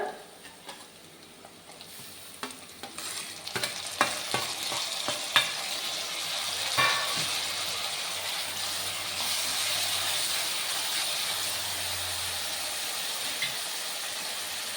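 Methi and egg mixture with tomatoes and ghee frying in a pan, a steady close sizzle and hiss broken by scattered scraping stirs and clinks of a spatula early on, then settling into continuous bubbling frying.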